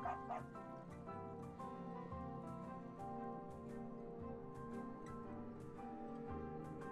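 Dog barks and yips from the farming video game Big Farm Story, repeated short calls over a steady layer of game music and background sound.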